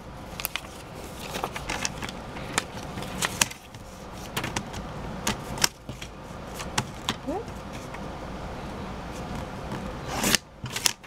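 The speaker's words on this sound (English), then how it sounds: "And then I'm going to go ahead and trim out the pine tree." Scissors snip through paper, trimming out a paper pine tree shape for a handmade Father's Day card; short close crisp cuts come in irregular bursts with faint rustling between them.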